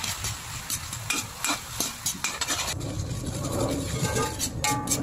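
Chili powder being stirred into a sweet and sour sauce in a pan, busy close scraping and sizzling strokes in quick succession over a low rumbling background.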